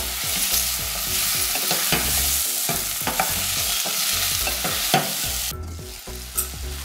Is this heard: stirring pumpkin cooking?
yes